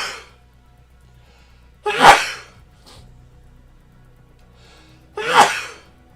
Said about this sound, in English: Oh, I'm going to sneeze. I'm going to sneeze